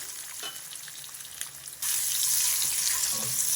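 Eggs frying in an iron pan, a soft crackle at first that jumps to a loud, steady, close sizzle, with faint stirring clicks under the hiss.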